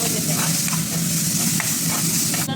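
Curry leaves and chilies frying in a hot pan for a spicy bitter gourd fry, with a steady close sizzle and crackle throughout and a brief louder burst near the end.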